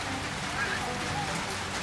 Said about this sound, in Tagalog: Tumutulo yung ulan dyan.